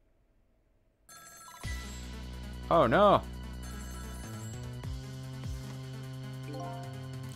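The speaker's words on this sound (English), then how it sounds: "Every time that phone rings, it's bad news." A telephone rings in the video game Ghost Trick: Phantom Detective, sounding over steady game music with a sharp, warbling ring burst in the middle; a voice briefly exclaims.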